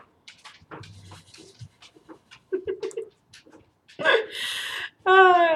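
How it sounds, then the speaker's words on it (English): Quick, breathy panting from a dog close by, in short bursts with pauses, ending in louder rapid huffs. "That's my dog."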